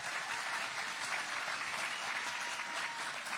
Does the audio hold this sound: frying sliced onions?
no